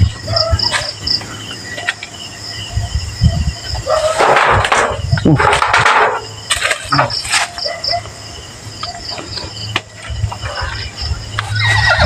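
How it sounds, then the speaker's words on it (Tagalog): A horse neighs from a distance at night in a cemetery, two short whinnies rising over a constant chorus of crickets and insects, with faint rustles between. "Kabayo talaga yun."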